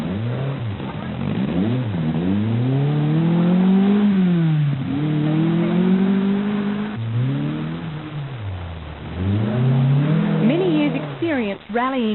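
A Datsun rally car on a 1983 NSW rally stage revs hard as it struggles off a bank, the engine climbing and dropping repeatedly in loud rising and falling sweeps, with a commentator talking over it.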